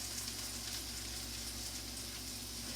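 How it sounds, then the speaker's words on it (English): Pork tenderloin sears in a hot pan with a dense, steady sizzle that stays loud and close throughout, with no voices over it. "we want to sear it on every side. Okay, and you can hear that sizzle"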